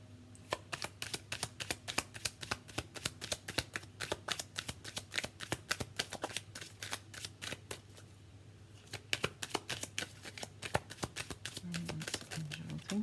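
Romance angel oracle cards being shuffled by hand, a long, close, steady run of crisp riffling snaps with a brief pause near the end, with no one speaking.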